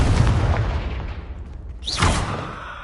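The Confringo fire spell in Hogwarts Legacy cast at a brazier, a deep boom fading into a whooshing burst as the flame catches, short and close, without speech.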